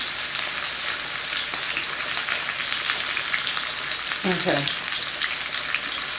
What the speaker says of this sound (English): I got some bacon grease in here, and I'm just going to sear this up